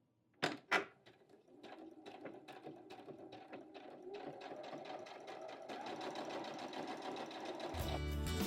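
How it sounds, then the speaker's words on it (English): A home sewing machine stitches through layers of fabric for a holiday hot pad, a fast steady motor whir with needle clatter that starts after a couple of clicks and runs continuously, close and clear, ending in a brief louder burst. "My machine automatically back stitches."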